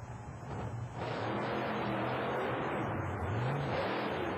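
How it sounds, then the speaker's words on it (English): The First Blood Ford monster truck at a 1991 USHRA monster truck show in Worcester, Massachusetts, a muffled, roaring engine that swells and falls in pitch as it revs, heard at a distance with crowd-like noise around it. "Incredible ride for Fuchs in the First Blood machine. Sideways, taking down poles, bouncing all over the place"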